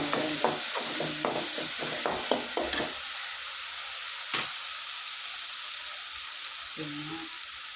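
Jackfruit and beef frying in a pan with chopped onion and curry leaves, a steady close sizzle with several stirring scrapes early on, then mostly continuous hiss with a few brief knocks.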